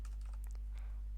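Light typing on a newly bought computer keyboard, a few soft scattered key clicks over a steady low electrical hum, quiet and close.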